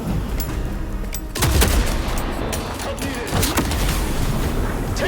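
Gunfire rings out in the video game Vampire the Masquerade: Bloodlines 2, sharp shots and bursts cutting through a dense, loud game soundscape without pause.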